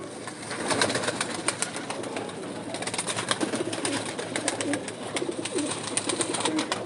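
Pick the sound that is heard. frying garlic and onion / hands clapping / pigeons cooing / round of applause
pigeons cooing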